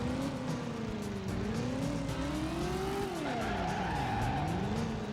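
In a PlayStation 1 racing video game, a car pulls a handbrake skid through a 180-degree spin, its engine drone bending up and down beneath a continuous, loud tire squeal.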